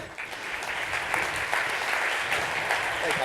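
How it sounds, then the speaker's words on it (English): An audience claps steadily and warmly as a volunteer comes on stage, a dense continuous round of applause. "Let's give him a round of applause."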